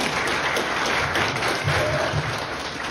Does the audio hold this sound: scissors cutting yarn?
no